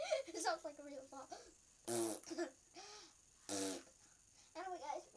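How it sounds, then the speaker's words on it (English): Two loud, buzzy fart-like bursts break through between stretches of close talking and babbling. "It sounds like a real fart."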